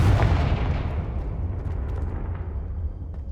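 A Confringo fire spell explodes in Hogwarts Legacy, a loud rumbling blast that booms at the start and then rolls on as a sustained low roar, fading slightly toward the end.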